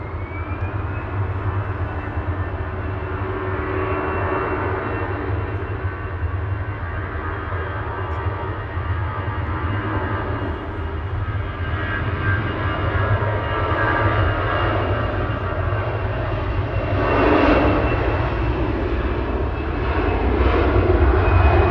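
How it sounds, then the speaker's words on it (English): An EasyJet jet airliner departs Manchester Airport for Malta, its engines roaring in a steady, loud, broadband rumble that swells slightly toward the end, with no voices over it. "EasyJet's going short to Malta GZ UK, flight"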